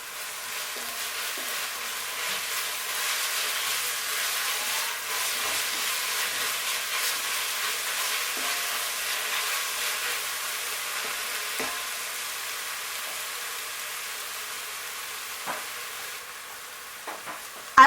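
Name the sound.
stirring spring onions into frying Njangsa sauce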